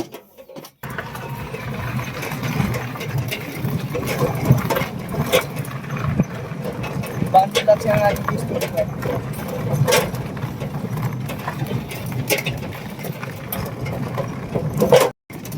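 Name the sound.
electric rickshaw (toto) being driven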